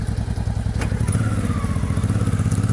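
A motorcycle engine runs steadily and loud up close with a throbbing low rumble, carrying three riders and their cargo on a European road trip, with a light clatter over it.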